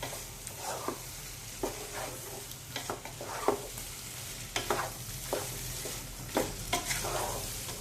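A vegetable biryani mixture with curd is stirred in a pot, giving soft wet scrapes and clinks of a spoon at an uneven rhythm over a low background hum.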